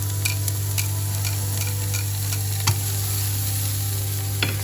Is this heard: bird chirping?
no